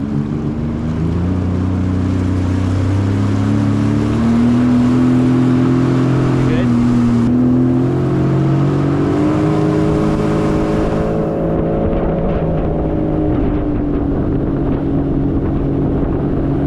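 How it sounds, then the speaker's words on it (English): A loud jet ski engine drones and rises in pitch as it accelerates, with steady wind and water rush over the microphone throughout. "Okay, throttle forward."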